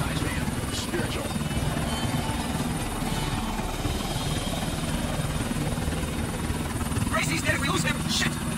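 A helicopter in Grand Theft Auto IV: The Ballad of Gay Tony drones steadily with a continuous rotor buzz throughout, loud and close, with game voices speaking over it.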